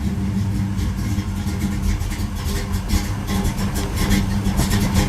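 A Camaro engine idling unevenly just after a cold start, a steady close rumbling drone with slight wavering and faint revving surges, not yet warmed up.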